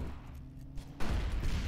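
Gunfire in a free-to-play shooter game erupts with a heavy low thump and rumble after a moment of background hum, sounding as a dense, muffled burst.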